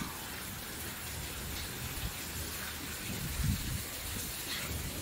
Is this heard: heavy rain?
yes